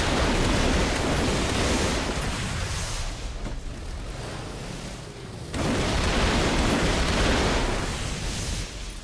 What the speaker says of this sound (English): Now I will not talk while the rockets are shooting,